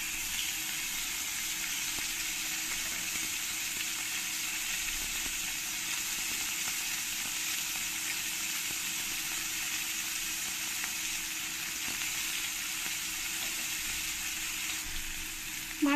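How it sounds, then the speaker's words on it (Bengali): Mourala fish, rubbed with salt and turmeric, sizzle steadily in hot oil in a pan, a dense, even crackle that holds at constant loudness the whole time with no voices. "এই মাছগুলোকে একটু ভেজে নেব।"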